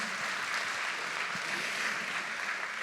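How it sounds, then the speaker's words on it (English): Faint, steady applause from a conference audience thanking government department heads and speakers at a climate adaptation plenary, a distant even wash of clapping. "Please give a big round of applause to all of the heads of government departments"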